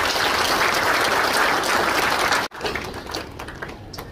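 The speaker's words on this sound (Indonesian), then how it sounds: "Tepuk tangan untuk dia." A crowd at a gathering in Papua, Indonesia claps in dense, steady applause that stops abruptly midway, then picks back up thinner and a little quieter.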